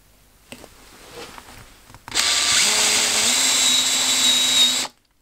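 An electric drill fitted with a Tormek-sharpened bit bores through plywood in one loud, steady whine lasting about three seconds, after some quiet handling noises and before stopping abruptly.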